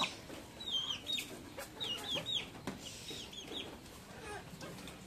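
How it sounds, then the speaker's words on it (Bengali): Ducks squabble and peck at each other with their beaks, letting out quiet, close squawks and clucking calls in short irregular bursts over soft background noise. "হাঁসেও দেখি ঝগড়া করে, ঠোঁট দিয়ে ঝগড়া করতেছে।"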